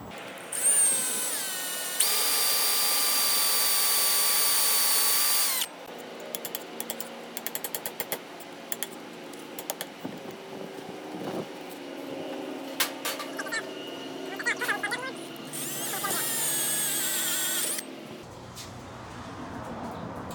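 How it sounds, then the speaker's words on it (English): A power drill drilling through soft firebrick whines steadily, cutting out and starting again with bursts of clicking and scraping in between, loud and close. "We're just going to go ahead and drill right through it."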